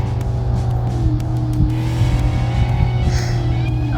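Supercar mod in BeamNG.drive with a loud, steady engine drone and rising harmonic tones as it accelerates, plus faint tire squeal near the end; close and continuous, no talking.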